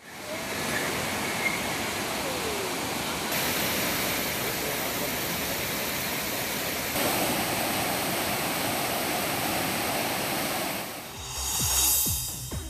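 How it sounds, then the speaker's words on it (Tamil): Heavy water thunders down the main waterfall at Courtallam, a dense, steady roar of rushing, crashing water filling the whole stretch, loud and close, with no voices and a brief shift in texture near the end. "மெயின் அருவியில் தண்ணீரின் சீற்றம் அதிகமாக இருப்பதால் அங்கு சுற்றுலா பயணிகள் குளிக்க தடை விதிக்கப்பட்டுள்ளது"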